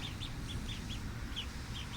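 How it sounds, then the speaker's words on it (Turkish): Ducklings give soft, high peeps in a quick irregular series over a steady low background rumble. "Evet arkadaşlar ördeklerimizi çıkardık."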